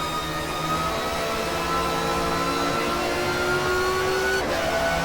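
Ford V6 touring car engine from a 1993 touring car race in the game GTR2, revving hard and steady with sustained high harmonic tones that climb, then shift gear near the end, loud and continuous.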